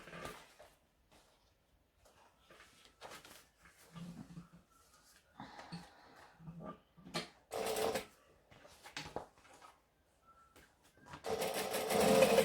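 A sewing machine top stitches a seam on a Celine bag in short, whirring bursts separated by pauses, ending with a longer run; a voice speaks softly in the gaps.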